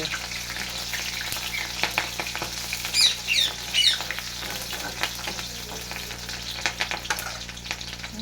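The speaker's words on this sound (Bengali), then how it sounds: "লালচে লালচে করে পেঁয়াজ কুচিটা ভেজে নেবো" Chopped onions frying in hot oil in a pan, a dense continuous sizzle with scattered crackles and a few squeaky spatula scrapes, close and fairly loud with no talk.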